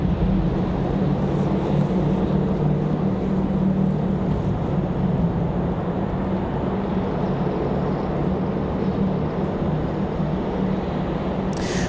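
A Republic Airways jet from JFK arrives at Raleigh-Durham airport, its broad steady roar loud and sustained for the whole stretch with no talk.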